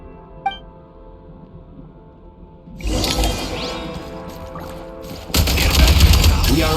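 Heavy gunfire from hostile units in a Genshin Impact battle, loud dense bursts that begin after a quiet opening with a single sharp click, then swell further into a roaring volley.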